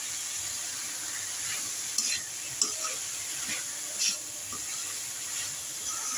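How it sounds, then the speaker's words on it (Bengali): Chopped greens being stirred with partly boiled potatoes in a frying pan, a steady sizzling hiss with a few soft scraping knocks of the spatula, close and moderately quiet. "এখন আমি এর মধ্যে অ্যাড করে দিচ্ছি সেই কুচানো শাকগুলা। দিয়ে আলুর সাথে ভালো করে মিশিয়ে দিব।"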